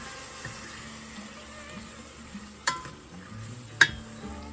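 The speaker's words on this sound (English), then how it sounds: "you're just breaking up the ground beef into smaller pieces. And you want to cook it until everything is browned." Ground beef browning in a pan for chili, a low steady sizzle with two sharp spatula taps or scrapes as the meat is broken up, and no voices.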